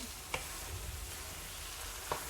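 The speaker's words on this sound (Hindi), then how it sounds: "अब हम इसे भी अच्छी तरह भून लेंगे।" Mash dal being fried and stirred in a pan, giving a steady faint sizzle with two soft scrapes of the spoon, heard alone with no voices.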